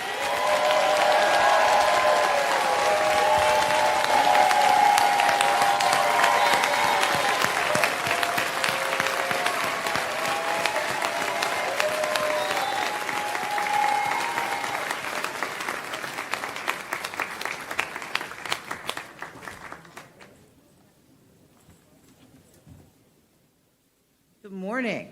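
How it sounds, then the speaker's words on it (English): Conference audience applauding Stacey Abrams as she is welcomed to the stage at a plenary session, sustained loud clapping with cheers that thins into scattered claps and fades to near silence before a brief sound at the end. "You join me in giving a great round of applause to Stacey Abrams"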